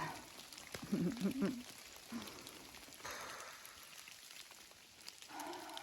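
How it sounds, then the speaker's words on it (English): Steady rain pattering around a hiker on the Appalachian Trail on a cold day, a soft continuous hiss with a brief voice and movement sounds early on. "It's just cold and rainy."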